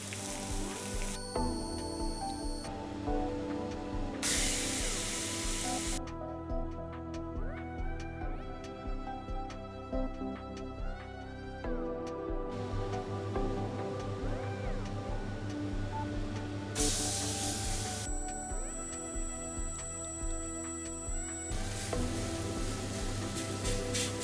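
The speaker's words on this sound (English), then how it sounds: "Drop the meat into the pan, wait 2 minutes and turn it over" Beef sears in a hot cast iron pan with a steady, crackling sizzle and spitting oil that runs beneath prominent background music for the entire stretch.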